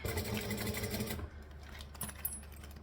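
A sewing machine stitches through a clipped bag with a steady motorized whir for about a second, then stops, leaving faint handling clicks and rustles.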